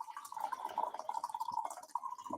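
Hot coffee pours from a thermos in a steady, quiet trickle of liquid for a couple of seconds, with small splashes and no talking.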